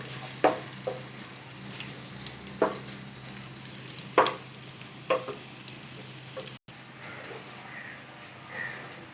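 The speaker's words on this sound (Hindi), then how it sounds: "प्याज को ब्राउन कर लेंगे।" Onions browning in a frying pan for a shahi chicken daal mash, with a steady low sizzle broken by several sharp clinks and pops from stirring, close and moderately loud.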